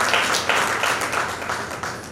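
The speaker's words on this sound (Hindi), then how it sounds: "उनके लिए एक बार स्वागत के लिए तालियां बज जाए" An audience at a kuldevi puja gathering applauds to welcome community elders, a dense, sustained wash of many hands clapping, loud and continuous across the whole stretch with no talk.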